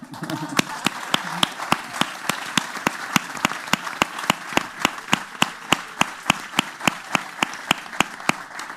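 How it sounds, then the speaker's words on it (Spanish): Rhythmic, evenly spaced claps repeat sharply for several seconds, loud and close, like a single steady clapper setting the beat as an audience applauds Juan Carlos's family, with faint background murmur beneath. "Un aplauso y un agradecimiento a la familia de Juan Carlos"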